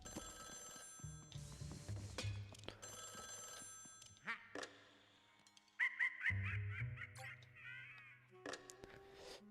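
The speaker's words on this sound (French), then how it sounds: "Ok, le téléphone qui sonne." A telephone rings in the video game Luigi's Mansion 3 in repeated bursts of bright bell-like ringing separated by short pauses, with other game sounds in between.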